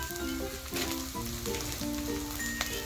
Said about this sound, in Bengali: পেঁয়াজ আদা রসুনের সাথে আলুটা কষিয়ে নিয়েছি।